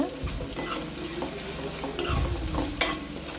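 Chicken pieces and onions fry in a pan, a steady sizzle broken by scraping stir strokes of a spoon against the metal, close and loud with no voices.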